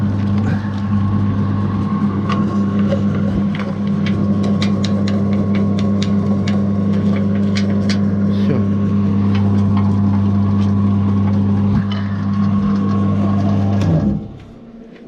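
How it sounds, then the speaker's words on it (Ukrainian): A pellet mill for animal feed hums and drones continuously with a steady cooling-fan whir and rattling clicks, loud and close, then winds down near the end. "Включуємо наш гранулятор і чуємо, як працює вентилятор."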